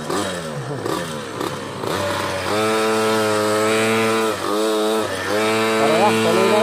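A small Honda Beat motor scooter revs and pulls away nearby, its engine note rising and falling with throttle changes under background chatter.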